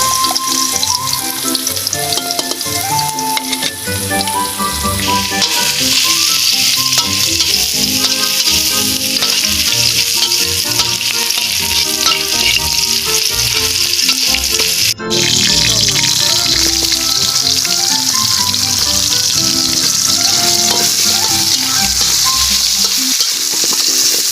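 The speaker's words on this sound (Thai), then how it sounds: "นี่คือกระเทียมกับรากผักชีที่เราโขลกไว้นะคะจะนำไป เจียวให้หอม" Pounded garlic and coriander root frying in oil, a loud, continuous sizzle close up, with stirring throughout and music playing underneath.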